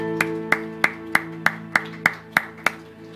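A church congregation claps in praise, about ten claps on a steady even beat over sustained keyboard chords, with no voices.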